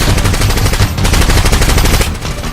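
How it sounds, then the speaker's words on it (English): Rapid bursts of airsoft gunfire crackle loud and close in a steady rattling stream, with a brief pause near the middle before the volley resumes. "I brought my airsoft gun."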